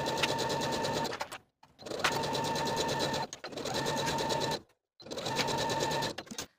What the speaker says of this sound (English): we're going to sew both of our side seams from the underarm to the bottom of the dress with a 3/8 inch seam allowance